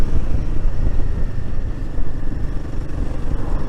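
A Royal Enfield Himalayan 450 motorcycle's single-cylinder engine runs loud and close with a steady, throbbing low rumble, heard alone with no talk.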